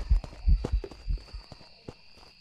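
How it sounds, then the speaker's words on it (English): Ghost footsteps in the horror game Phasmophobia, a run of dull, uneven thuds, some close and heavy, others softer, over a steady electronic hum with no talking. "Well, listen to footsteps."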